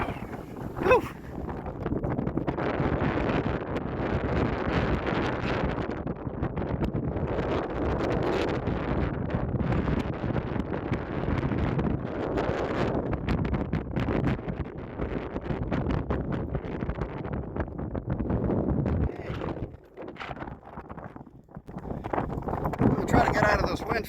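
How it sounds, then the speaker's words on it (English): Strong wind on a trail on New Zealand's North Island roars and buffets the microphone in continuous heavy gusts, briefly easing before surging again, with a voice partly buried beneath it. "Wow, that is breezy."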